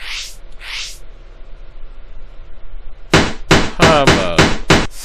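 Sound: hammer sound in an educational spelling video game

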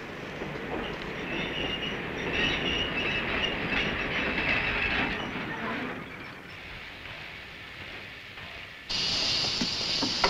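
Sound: train running on rails

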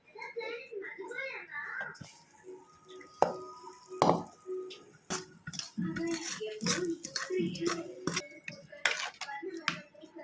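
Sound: pouring tempering into mashed pumpkin

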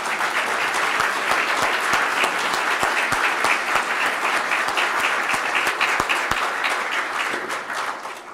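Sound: applause

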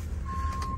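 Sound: truck reversing beeps while backing up

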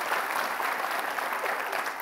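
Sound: studio audience applause

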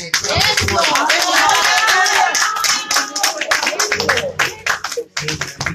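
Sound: church congregation hand clapping

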